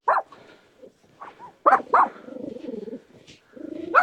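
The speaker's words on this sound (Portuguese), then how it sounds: "Tem um cachorrinho aqui já latindo aqui pra gente" A small dog barks in sharp bursts, a few yaps close by, separated by low growling or whining sounds, with no talking, in the mountains of northern Portugal.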